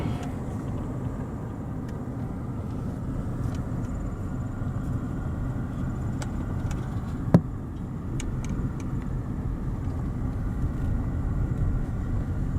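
Steady low rumble of a car idling and rolling slowly along a road in Tate's Hell State Park while edging past a snake, continuous and fairly close, with one faint click partway through and no talking.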